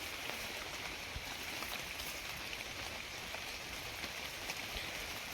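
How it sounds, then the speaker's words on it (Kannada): Steady drizzle falling across a tomato farm on a day of light, continuous rain, a soft even hiss of drops holding at a constant level with no voices. "ಬೆಳಗ್ಗೆಯಿಂದ ಜಿಡಿ ಹಿಡ್ದಿದೆ"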